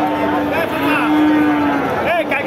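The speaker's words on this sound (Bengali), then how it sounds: "দেশি জাতের গাভী সহ বাছুর।" A desi-breed dairy cow with her calf at the Satmile cattle market lets out a loud, drawn-out moo close by, with a second shorter call near the end over a busy market murmur.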